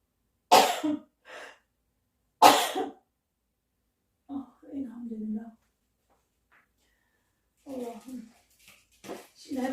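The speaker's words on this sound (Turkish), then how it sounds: "Karabiber beni her zaman böyle öksürtür ve hapşırtır" Two sharp, loud coughs close by, each followed by a smaller one, brought on by black pepper while cooking stuffed peppers, then a person talks briefly between quieter pauses.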